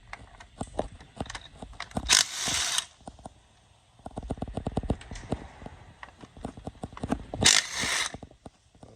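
A ratchet loosening the motor mount bolts on a Yukon Denali, fast close clicking runs broken by pauses and two short louder bursts of scraping metal.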